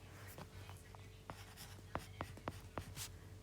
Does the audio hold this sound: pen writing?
yes